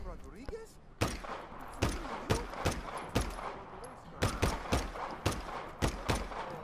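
A big head gun fired at people in the open-world game Just Cause 3, heard as about a dozen sharp, loud shots in an uneven rhythm, with some chatter between shots.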